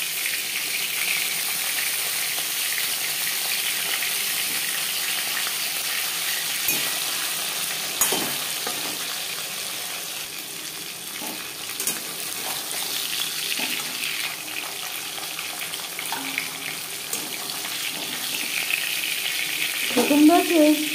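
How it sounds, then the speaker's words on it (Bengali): Tilapia fish frying in refined oil, a steady broad sizzle running throughout with a few scraping clicks and a brief louder crackle near the end, no talking. "মাছ ভাজা হয়ে গেছে।"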